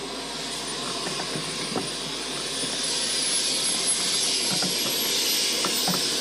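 A model jet aircraft engine at a flightline model show spools up, a loud steady broadband roar with a rising high whine that builds slightly in intensity throughout, no talk over it.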